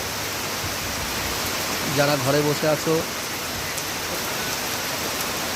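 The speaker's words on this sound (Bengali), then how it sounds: "আজকে গঙ্গার পাড়ে কয়েকজন মাত্র আছে লোক নেই বললেই চলে মারাত্মক বৃষ্টি হচ্ছে" Heavy rain pours steadily on the Ganges riverbank, a dense continuous hiss throughout, while a person speaks briefly over it partway through.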